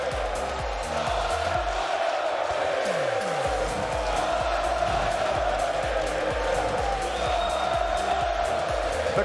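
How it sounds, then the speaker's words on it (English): A large crowd at a Rocket League esports championship roars and cheers continuously at a distance, a dense wash of voices with steady energy throughout. "The crowd going absolutely bananas for Moist."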